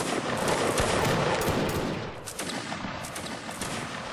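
A dense musket volley crackles and rolls on in a Napoleonic Wars line battle game, loud and continuous with many overlapping shots that thin out slightly toward the end.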